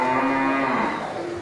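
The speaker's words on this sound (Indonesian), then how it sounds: "Sapi jenis sapi simental." A Simmental cow moos in a long, low, drawn-out call, close and loud against a steady background hum, at a livestock market.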